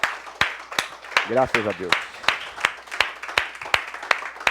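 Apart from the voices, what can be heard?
congregation applause in church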